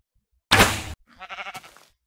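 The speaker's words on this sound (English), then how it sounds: "See, we have this little sheep here." A sheep in the game Minecraft lets out a bleat, followed by a shorter wavering second bleat, both close and clear against silence.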